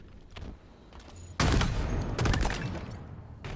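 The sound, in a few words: sniper and gun fire in competitive video game match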